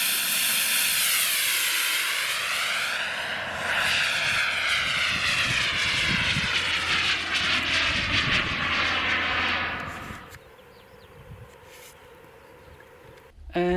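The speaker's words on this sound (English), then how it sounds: "always nice to see a turbine jet here" The turbine jet engine of a fast 3D-printed RC delta jet roars loudly as the aircraft flies past, its whine sweeping in pitch before fading away sharply near the end.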